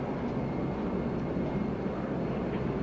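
Dash 8 Q400 turboprop in a flight simulator game taking off from Vienna, a steady loud broadband engine roar that holds even throughout with no pauses.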